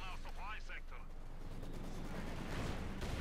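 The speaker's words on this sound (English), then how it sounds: "Mortar fire there" Mortar fire in the Company of Heroes 2 strategy game, with a voice speaking briefly over it before low booming impacts and rumbling battle noise rise and swell near the end.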